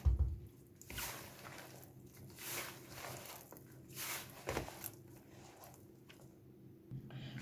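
Soft, wet dough for potato çiğ börek being kneaded and squished by hand after water is added, with irregular squelching presses and pats, close and fairly quiet.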